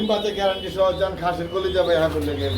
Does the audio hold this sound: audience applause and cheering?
no